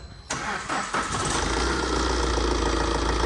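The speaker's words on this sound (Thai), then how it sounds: "อ่ะติดเครื่อง" A Tata diesel truck engine, checked after a check-engine fault was repaired, cranks briefly and catches, then settles into a steady, rumbling idle that continues close by without pause.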